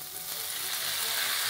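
Beef dropped into a pan of smoking-hot oil for a stir-fry with peppers, giving a loud, steady, broadband sizzle that builds slightly and holds throughout, with no talking.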